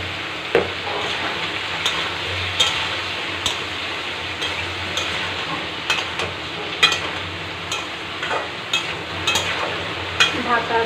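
Vegetables fry in a pan with turmeric and salt for a vegetarian dish, giving a steady close sizzle broken by frequent sharp clicks and scrapes of stirring.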